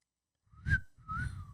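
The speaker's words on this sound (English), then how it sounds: "Your wife had to teach you how to whistle?" A person whistles two short, breathy notes, the second slightly longer, close by and fairly airy.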